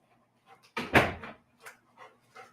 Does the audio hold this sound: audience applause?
no